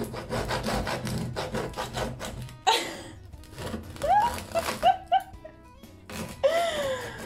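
A bread knife saws through a hard, heavy loaf of homemade bread, giving a run of rapid rasping strokes, then scattered scrapes, with brief voice sounds and a gasp toward the end.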